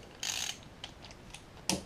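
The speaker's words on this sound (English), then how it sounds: "So we take our 15mm socket and remove these" A ratchet with a 15mm socket loosens the alternator nuts on a VW Golf Mk4, giving a few quiet, sharp clicking bursts spaced apart at close range.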